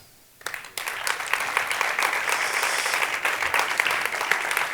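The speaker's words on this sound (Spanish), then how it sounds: "me encantan los aplausos" An audience at an awards gala for the Ramiro Pinilla and Txiki Baskardo prizes bursts into applause after a quiet moment, the clapping swelling quickly into sustained, dense, moderately loud ovation.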